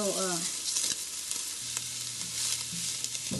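Chopped onions and a little garlic sizzle steadily in a hot pan for spaghetti sauce, a constant close frying hiss with occasional stirring clinks and no talking.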